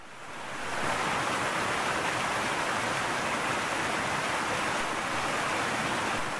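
Rain-swollen water rushes along in a stream after days of heavy rain, a loud, steady broadband roar with no pause.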